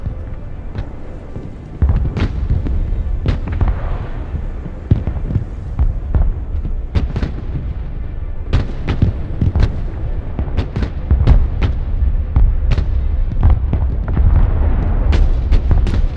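Artillery fire in the Broken Arrow war game, a dense run of booming blasts at uneven intervals over a steady low rumble, some shots sharp and loud, others distant thuds, with no voices.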